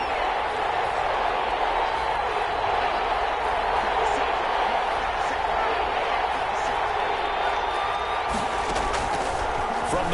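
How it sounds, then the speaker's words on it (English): A stadium crowd in a Jaguars versus Chargers football video game roars in a steady, dense wash of cheering that holds at an even level without letting up. "the crowd getting into it as we come up on a big 3rd down"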